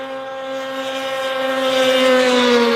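Racing snowmobiles at a Canadian Power Toboggan Championships season opener roar past at speed, a loud sustained engine whine with strong steady tones building slightly in volume, with no voices.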